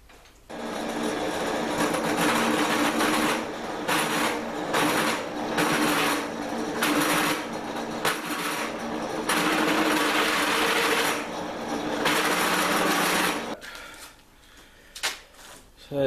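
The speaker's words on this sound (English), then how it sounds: "So we've just drilled into there." A power drill with a large bit whirs steadily into a plastic injection molding machine part for about thirteen seconds, its loud, continuous motor noise pulsing slightly before it stops.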